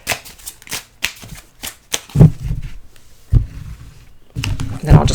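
Tarot and oracle cards being shuffled by hand in a quick series of crisp riffles and slaps, close and fairly loud, with bursts separated by short pauses.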